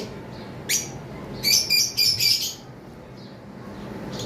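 A caged pair of lovebirds offered for sale gives one sharp chirp, then a close, loud run of four shrill squawks over a steady background murmur.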